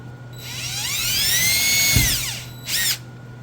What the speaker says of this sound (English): Drill that hole now.